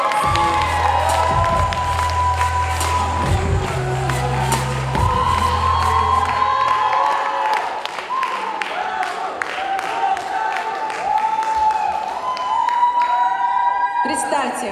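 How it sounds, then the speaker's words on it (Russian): A KVN comedy-contest audience at a university semifinal breaks into loud cheering, whooping and applause that carries on for the whole stretch, with a low musical hum and scattered shouts in the first half. "Под ваши аплодисменты!"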